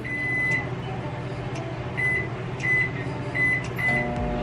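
A microwave oven hums steadily while heating butter, with several short electronic beeps and a faint clunk near the end.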